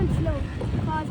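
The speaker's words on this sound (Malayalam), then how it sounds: "കുറച്ച് കഴിഞ്ഞപ്പോഴേക്കും നല്ല കാറ്റ്" Steady wind rushing and buffeting past the microphone while riding in the back of a vehicle on a night drive through the mountains in the UAE, a continuous low roar with no speech.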